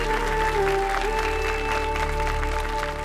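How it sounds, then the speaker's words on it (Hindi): A studio audience claps for the contestants' performances at a TV serial competition, dense applause over a steady tonal music hum throughout. "हमारे सारे बहुओं के शानदार परफॉर्मेंस के लिए जोरदार तालियां हो जाए"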